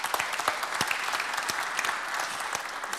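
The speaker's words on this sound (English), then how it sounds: "I think that deserves a round of applause" An audience at a security talk breaks into dense, continuous applause with many overlapping hands, steady and fairly loud throughout, with scattered sharper claps standing out.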